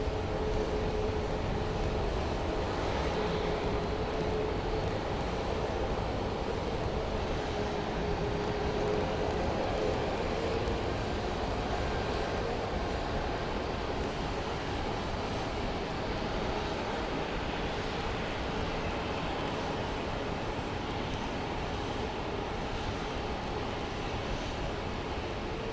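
Southwest airliner at Phoenix Sky Harbor airport, a steady broad roar of jet engine noise that holds loud and even throughout, with a faint tonal whine riding over the rumble.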